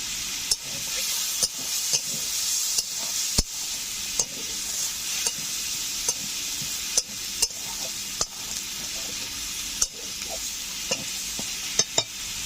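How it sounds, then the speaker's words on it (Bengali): Shrimp frying in hot oil with turmeric, sizzling steadily up close while a spatula stirs and scrapes the pan in frequent sharp clacks. "চিংড়ি মাছগুলো প্রায় ভাজা হয়ে যাচ্ছে।"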